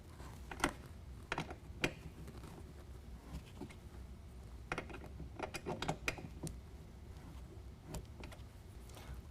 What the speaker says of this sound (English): Now we can go ahead and use our provided Allen wrench, snug down the bottom bolt to 5 foot-pounds.